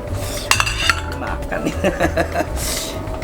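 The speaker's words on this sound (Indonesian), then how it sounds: "Sini lalu kita aduk pelan." A utensil slowly stirs ribbonfish in a cooking pan, with close metallic clinks and scrapes over a continuous kitchen background.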